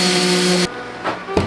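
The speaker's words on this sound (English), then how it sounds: "we got a sander with a 60 grit sandpaper" Electric sander fitted with 60 grit sandpaper working pallet wood, a loud steady whine that runs briefly then cuts off abruptly, followed by a couple of short bursts as the tool restarts.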